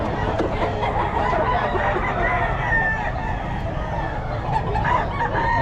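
Roosters and chickens at a small-time poultry seller's place crow and cluck continuously amid a busy, noisy background, with faint talk underneath.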